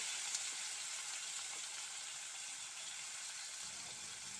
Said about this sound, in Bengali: টমেটোটা একটু ভাজা ভাজা করে নিচ্ছি